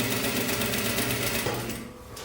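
A sewing machine runs steadily close by while stitching an ao dai collar, a continuous whirring hum with rapid needle chatter that slows and softens near the end.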